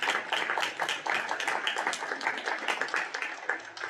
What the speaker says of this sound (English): So a nice round of applause for our student athletes,